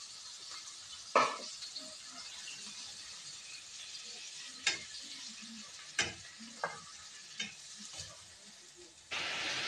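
Chicken sizzles in a pan with garlic, onion and tomato paste while being stirred, giving a steady frying hiss broken by several sharp scrapes and clinks of the utensil against the pan.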